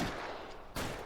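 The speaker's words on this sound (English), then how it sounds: "Ooh, some shooting." Gunfire in the video game L.A. Noire, two short loud bursts of shots about three quarters of a second apart, heard close with no talking.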